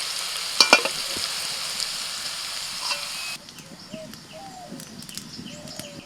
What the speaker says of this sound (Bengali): সবজি বেশিক্ষণ ভাজবো না, সবজি একদম হালকা করে ভাজবো